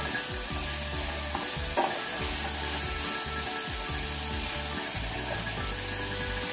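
Ground beef, 300 grams, sizzles and fries in a pan with a steady crackling hiss, while repeated stirring scrapes and low rhythmic bumps come through close up, with no talking.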